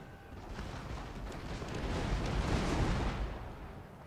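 Rockets and artillery fire in the video game Fall of the Samurai come through as a dense, continuous roar of rumbling blasts. It swells in the middle and stays low and muffled, with no clear single impacts and no talking.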